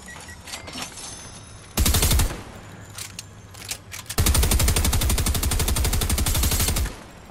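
Combat SMG fire in Fortnite, one short rapid burst followed after a pause by a longer sustained stream of fast, loud shots in the foreground.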